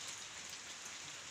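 Rain falls steadily around a pigpen, a faint, even hiss of drops with no distinct pattern, brief and without voices.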